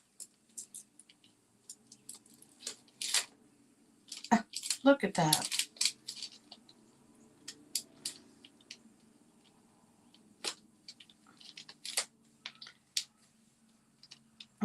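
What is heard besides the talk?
cutting paper with scissors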